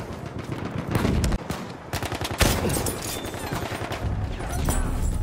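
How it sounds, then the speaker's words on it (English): Machine gun fire in the World War One shooter Battlefield 1: loud, dense bursts of automatic shots and scattered gunfire crackling through the whole stretch. "Enemy machine gun!"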